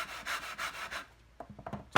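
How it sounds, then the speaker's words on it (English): A wooden humidor lid is rubbed back and forth on a flat stone, about four smooth, even sanding strokes in a steady rhythm, then a few lighter scuffs and knocks as it is shifted. "we place the lid on the stone, and probably for the next hour we will be sanding it back and forth"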